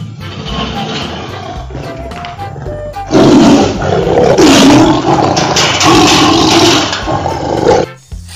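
A toy tiger pulled from a colourful ball full of animals lets out a long, loud, rumbling roar. A shorter, quieter rustle comes first, and the roar dominates until it cuts off near the end.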